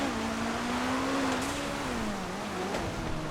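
A fast car's engine drones steadily through a rallycross race in GTA FiveM, its pitch rising and falling slightly as it drives hard, loud and continuous with no talk.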